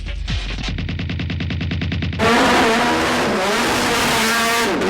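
JGTC GT race cars with purpose-built racing engines, heard first as a loud, rapid rhythmic engine burble, then a sudden surge of high-revving roaring engines that stays very loud and close to the end.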